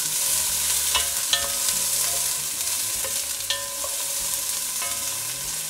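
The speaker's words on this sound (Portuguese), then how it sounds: "colocar mais ou menos umas 4 colheres de sopa de azeite trufado ou do azeite que você tiver em casa, para a gente poder refogar bem essa cebola" Chopped onion sautés in a few spoonfuls of truffle olive oil, a steady close sizzle under repeated clinks and scrapes of a utensil stirring the pan, with no talking.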